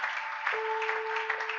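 A church congregation applauds in praise during a service, the clapping fairly quiet and even, with a steady sustained tone running underneath it.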